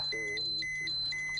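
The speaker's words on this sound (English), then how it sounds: "another alarm goes off" A radiation dosimeter alarm near Fukushima beeps in rapid, high electronic tones that repeat in a quick, regular pattern, loud and close, with a low steady hum underneath.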